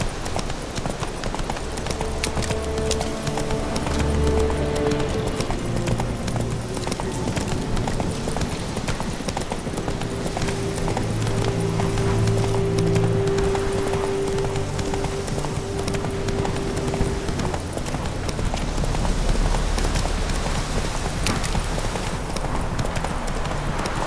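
Horse hooves clip-clop in The Witcher 3: Wild Hunt, a steady rhythmic trot continuing throughout, fairly close and prominent over background game sounds.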